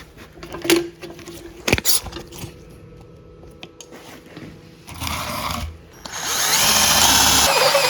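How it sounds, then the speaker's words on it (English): A cordless drill works on a Terex TA34N cherry picker in short bursts, followed by a few clunks and a sustained, louder whirring run toward the end, with no talking. "the possibility of using a cordless drill for this wasn't a good idea"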